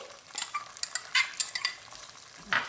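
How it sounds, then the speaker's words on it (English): Grated coconut is roasted in a pan for burfi, with scraping, rustling stirring strokes in short bursts over a faint background sizzle. "I roasted it for a few seconds and now I'm adding coconut."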